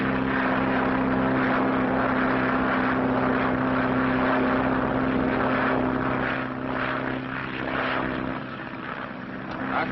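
A propeller airplane engine drones steadily in flight, a loud continuous hum with a strong low tone, close and unbroken, easing slightly toward the end, in a 1937 aviation drama about a transatlantic flight.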